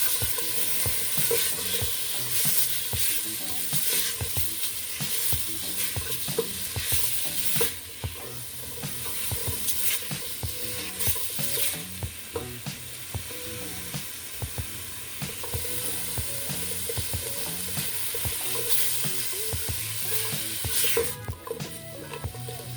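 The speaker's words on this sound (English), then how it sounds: "we are going to stir fry the peppers, the onions, and the celery" Peppers, onions and celery stir-fried with olive oil and Dominican oregano, a continuous crackling sizzle with constant stirring scrapes and clatter throughout, close and fairly loud, no speech.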